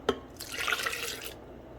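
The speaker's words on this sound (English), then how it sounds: "I'm going to go ahead and add the soy milk" A brief splash of soy milk pours steadily into a blender for about a second, fairly quiet, with a small drip at the start.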